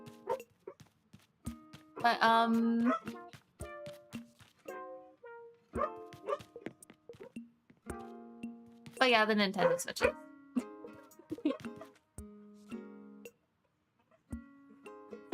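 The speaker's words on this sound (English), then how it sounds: "Sorry about the barking." Dogs barking at a delivery, with repeated loud bursts of barking and yips spread through the stretch, mixed in with a person talking over them.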